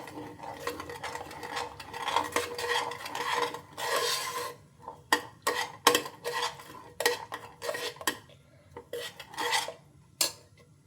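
Masala stirred in a pan over low heat, heard as repeated close scraping and rasping strokes of a spoon against the metal, sometimes steady and sometimes in short separate bursts, with no talking.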